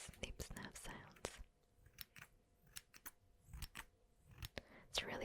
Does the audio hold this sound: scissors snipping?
yes